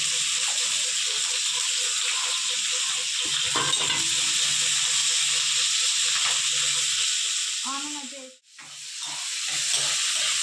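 Onions, curry leaves and green chillies fry in a pan with a steady, close sizzle and hiss throughout, briefly dipping near the end, while a voice speaks faintly underneath.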